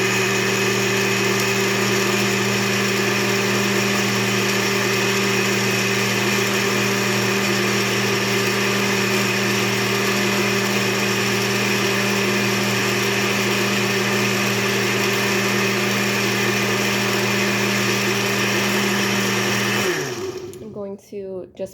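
A countertop blender runs loud and steady, crushing ice and banana for a peanut butter chia seed shake, its motor holding an even drone for about twenty seconds before abruptly winding down and stopping.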